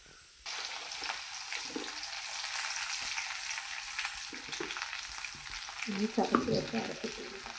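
Urad dal and curry leaves fry in hot oil, a bright crackling sizzle that bursts in suddenly and holds steady, with a few scraping stirs and a louder spluttering flare near the end, close-up without talk.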